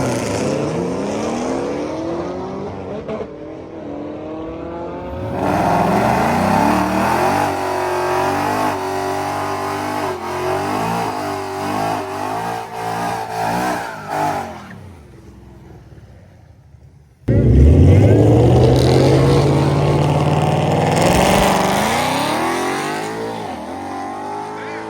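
A Mustang drag car's engine fires up and revs hard at a drag strip, loud and close, with rising throttle blips, a brief drop near the middle, then a sharp restart into a sustained high rev.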